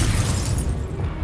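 A Confringo blasting spell explodes in the game Hogwarts Legacy, a single loud, booming burst with a heavy low rumble that quickly fades, heard alone and up close.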